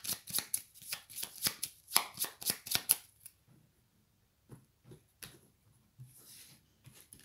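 Tarot cards are riffled and shuffled in a quick, close burst of crisp flicks and slaps, followed by softer, scattered sliding and tapping as individual cards are drawn and laid down.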